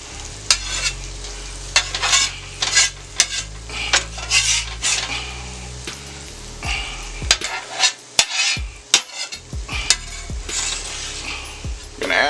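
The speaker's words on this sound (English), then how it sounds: "We're going to stir them around in here a little bit." Potatoes stirred on a hot Steelmade griddle for breakfast burritos, metal utensils scraping and clacking in uneven bursts over a steady frying sizzle, close and fairly loud.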